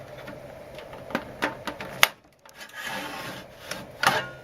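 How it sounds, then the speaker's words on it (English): Screwdriver working open the drive bay cover on a 486 DX2 VLB desktop computer case, giving a series of scraping, rasping clicks and a couple of sharper snaps near the mic, with a brief quiet gap midway. "What I do, I simply just put a screwdriver in and open it up like so."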